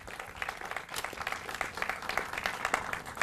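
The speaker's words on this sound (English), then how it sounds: "Let's give them a round of applause" A crowd at a community event for the Monterey County launch of the 2020 Census gives steady, moderately distant applause, dense overlapping clapping that holds throughout without voices standing out.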